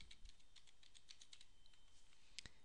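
Quick, light keystrokes on a computer keyboard as a patron ID is entered on a library system, a steady run of soft clicks with one sharper tap near the end, heard alone and fairly quiet.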